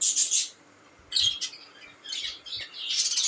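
Budgerigars in a cage chirp and twitter in short, bright bursts separated by brief gaps, close and fairly clear with no talking.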